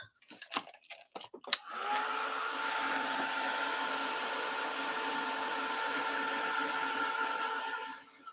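A dryer blowing on mixed media paper, starting with some crinkling and handling taps before a steady loud whirring hum sets in and runs until it cuts off at the end.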